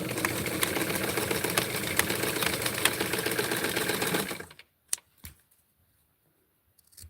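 A sewing machine stitches the bottom edge of Tutti Flower Power fabric in a fast, even whirring run that stops abruptly, followed by a few sharp clicks and then near silence.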